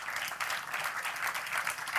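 At a film festival's opening ceremony, an audience claps in a steady, even wash of applause that sounds distant and fairly soft throughout.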